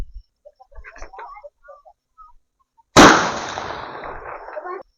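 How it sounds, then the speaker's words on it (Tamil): A medium-size Lakshmi firecracker bursts outdoors in one loud, sharp bang after a few seconds of faint scattered sounds. A harsh crackling roar follows the bang and slowly trails off. "ஸோ அடுத்து இந்த மீடியம் சைஸ் லட்சுமி வெடி வைக்கலாம் வாங்க."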